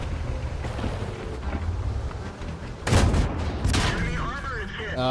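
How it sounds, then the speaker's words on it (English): Tank cannon fire booms in a World of Tanks battle between a Sherman Easy 8 and a Churchill, with heavy shots and rumbling impacts over continuous engine and battle noise, loud and near. "We exchange shots"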